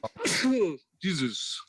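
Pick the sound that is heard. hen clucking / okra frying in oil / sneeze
sneeze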